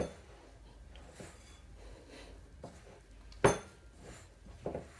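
Galette ingredients are stirred in a bowl, with soft scraping and light clinks of a utensil against the dish, quiet and close, punctuated by one sharper knock.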